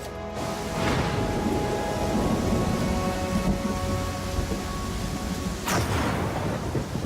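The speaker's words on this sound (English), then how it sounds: "I'm moving slow because of this heavy rain." Heavy rain pours steadily in the Pathfinder: Kingmaker video game. Two loud thunder cracks break through the dense, hissing downpour, one early and one near the end, with no voices.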